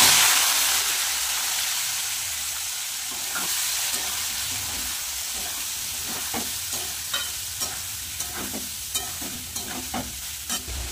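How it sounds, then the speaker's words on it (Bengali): Boiled soybean chunks and potato fry in hot oil with whole cumin seeds, making a steady close sizzle with a series of small scraping stirs in the later part. Nobody talks. "এদিকে তো সোয়াবিন আর আলুটা একটু ভেজে নিচ্ছি"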